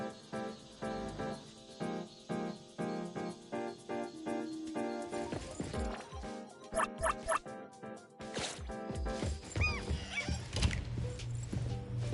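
Dog barking from the video game Neverness to Everness, set among game music and effects, with repeated sharp yaps and whimpers mixed into a busy, loud background of tones and clatter.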